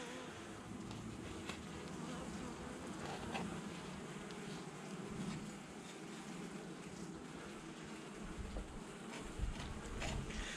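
Honey bees buzzing steadily around an opened hive during a spring colony inspection, a dense continuous drone at moderate distance with faint clicks and knocks, no speech.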